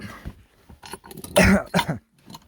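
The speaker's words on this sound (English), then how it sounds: "I'm coughing now" A man coughs and clears his throat at close range in a few rough, harsh bursts, the loudest cluster in the middle, with brief pauses between.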